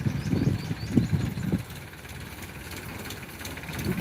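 A borrowed tractor's engine idling nearby, low uneven chugging pulses that are stronger at first, then ease into a quieter steady rumble before picking up again, with no talk.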